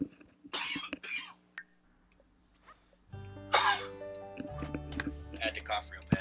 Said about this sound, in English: I had to cough real bad.